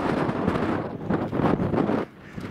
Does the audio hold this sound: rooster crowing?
no